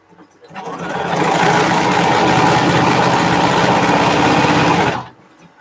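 A sewing machine stitching a quarter-inch quilt seam, a loud, fast, even whirr that speeds up, holds for about four seconds, then stops, with no talking.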